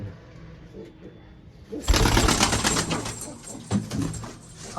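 Teddy pigeons in a home loft coo softly at first, then a burst of close rustling and fluttering fills the rest of the clip with a few sharper knocks.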